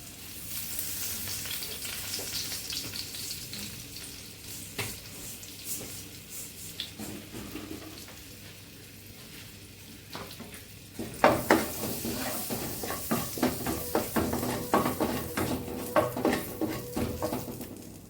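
Bay leaf and whole cumin hit hot oil in a pan while cooking poha, a soft sizzle that suddenly swells into loud, crackling spattering frying, with occasional clinks of a utensil.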